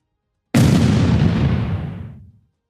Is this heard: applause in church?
no